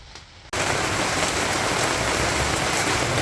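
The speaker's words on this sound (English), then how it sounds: "It's really raining outside." Heavy rain pours down outside, a dense, loud hiss of drops on surfaces that bursts in suddenly after a quiet half-second and then holds steady with no speech over it.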